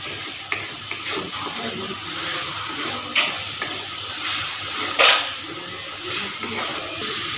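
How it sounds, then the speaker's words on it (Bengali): Taro stolons and potatoes frying in spiced oil while being stirred, a steady close sizzle and hiss with scraping and clinking from the stirring. "ভালো করে ভেজে নিতে হবে, মশলা থেকে তেলটা উঠে গেছে"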